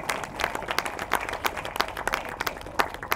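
Audience clapping at a Tamil lecture at a book fair, a steady patter of many hands at moderate distance, continuous and fairly even throughout.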